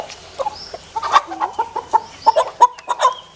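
A chicken clucking close by in a rapid, uneven series of short clucks and squawks, loud and clear with no talking over it.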